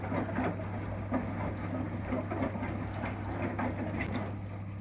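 Front-load washing machine rinsing clothes with plain water and no detergent, a soft continuous sloshing and swishing over a steady low motor hum, fairly quiet and unbroken.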